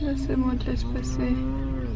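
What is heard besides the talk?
dairy cows mooing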